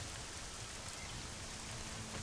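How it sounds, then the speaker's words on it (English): Steady rainfall in a dinosaur shooter video game, a dense, even hiss of drops on surfaces that continues unbroken at a soft, uniform level with no voices over it. "It's sunny and raining."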